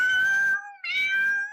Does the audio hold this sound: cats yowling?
yes